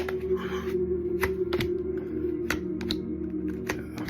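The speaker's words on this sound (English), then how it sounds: "Let's give a good shuffle." A deck of tarot cards is shuffled during an earth signs reading, producing soft, close papery clicks and snaps in an uneven rhythm over a steady low hum.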